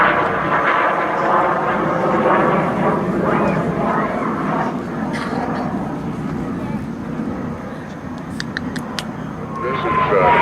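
A Russian L-29 Delfin jet trainer flies at the Willow Grove airshow in 2005, its engine a steady loud roar with shifting whine, while an announcer talks over the sound throughout.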